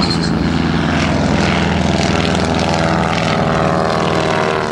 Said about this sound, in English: you'll hear the engine sputter, and look for the flaming restart when that engine gets the gas back in